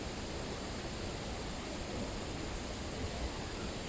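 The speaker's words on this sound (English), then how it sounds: "The waterfall is about 30 meters high and 200 meters wide." A waterfall about 30 meters high and 200 meters wide roars as a dense, steady wash of broadband noise, continuous and even, with no voices over it.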